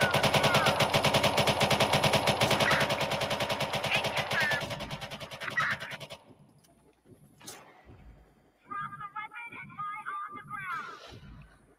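Rapid video game gunfire rattles in dense, loud bursts for several seconds, then fades to scattered shots and quieter sounds.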